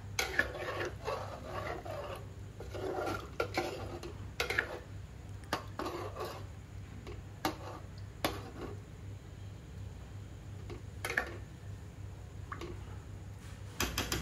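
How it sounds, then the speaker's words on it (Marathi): Boi fish curry with tamarind water stirred in a pot, a spoon scraping and clinking against the metal in irregular bursts over a low steady hum, fairly quiet and close. "आणि सगळं चांगलं मिक्स करून घेऊया"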